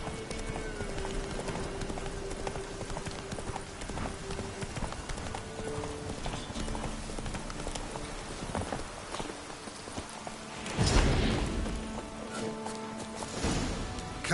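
Roach the horse's hooves clip-clop in a steady galloping rhythm across The Witcher 3 game world, fairly close, with faint background game ambience and a brief louder swell near the end.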